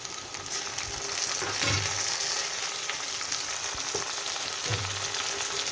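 Onions browned in a pan sizzle and fry steadily as tomato goes in for an okra stir-fry, with occasional stirring scrapes over the continuous crackle and no talk.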